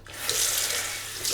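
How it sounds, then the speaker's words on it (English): Tap water runs steadily into a sink as a shaving brush is wet, a close, continuous splashing rush with no voices. "just wet the brush"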